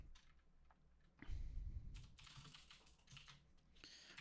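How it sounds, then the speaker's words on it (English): Keys clattering on a computer keyboard, a short burst of close, quiet taps and presses with a louder thump partway through, no voices. "I'm going to type in the IP address of the machine"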